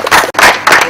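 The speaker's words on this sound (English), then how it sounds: "he deserves a big hand clap" A small audience at a think-tank discussion on insecurity in Uganda claps in a short, close burst that pauses briefly and then resumes.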